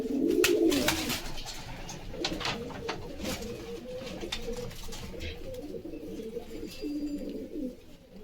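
Kalshira pigeons, large birds, coo repeatedly and close by in a steady, low burbling run that carries through the whole stretch, with a louder burst near the start.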